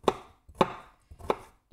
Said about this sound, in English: I think I'll just chop it up.